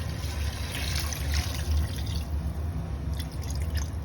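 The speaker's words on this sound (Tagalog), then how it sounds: "lagyan natin ng tubig. Siguro mga 1 mga 1 litro." About a liter of water runs into a cooking pot for chicken kabsa, giving a steady, soft pouring and dripping wash that lasts the whole stretch with no voices.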